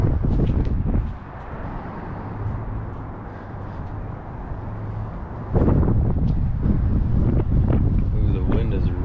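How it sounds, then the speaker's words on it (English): Strong wind rips across the microphone while exploring the derelict Fisher Body Plant 21 factory, a rough continuous roar that swells louder in gusts. "the wind is ripping right here"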